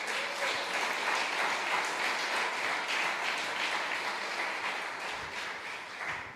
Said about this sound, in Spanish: Yo le estaría dando un poderoso aplauso al Señor.